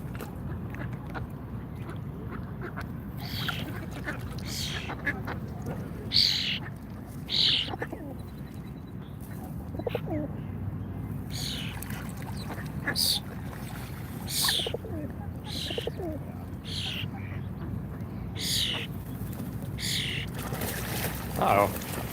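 A noisy bird calls outdoors in Washington DC near ducks, with sharp calls repeating at irregular intervals over a constant low outdoor rumble.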